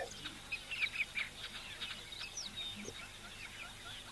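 Small birds near a waterhole dam chirp in quick, high, scattered calls at a moderate distance, with a short burst of activity early and then thinner tweets over a quiet outdoor background.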